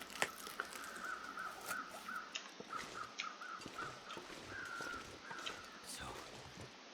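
Crows caw repeatedly in the snowy wilderness of The Long Dark, a regular string of hoarse calls at moderate distance, heard over a soft steady wind and scattered crunching footsteps.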